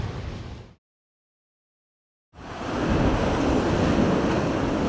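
Big ocean waves crash onto a seashore during a heavy rainstorm, a loud, broad roar of surf and wind that drops out briefly, then surges back steady and close.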